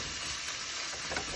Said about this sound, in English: So you see this is sizzling away.